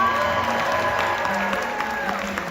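An audience aboard the cruise ship Carnival Celebration applauds and cheers for the Public Health Officer, a short burst of loud clapping and whoops from a crowded room.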